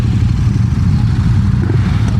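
A KTM 1290 Super Duke GT motorcycle rumbles close by with a steady low engine throb and slight mechanical clatter, loud and unbroken for a couple of seconds.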